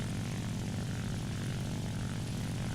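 A La-9 propeller fighter's piston engine drones in War Thunder, a steady, dense, low-heavy roar with a constant rumbling buzz that holds unbroken throughout, with no voices.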